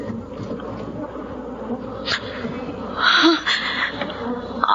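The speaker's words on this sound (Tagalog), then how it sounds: "Nagkakalipumpun ang mga insekto sa dingding at bubungan ng kubo." A dense swarm of kept honeybees crowds the walls and roof of a hut, giving a continuous loud, close buzz throughout with a few louder swells partway through and no speech.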